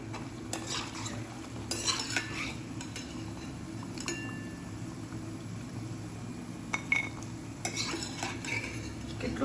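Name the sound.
bhakharvadi snacks frying in oil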